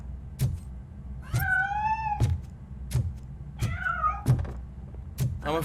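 A cat in RoboCop: Rogue City meows twice in long, drawn-out cries, close and clear, between a series of heavy metallic thuds and clanks that repeat about once a second.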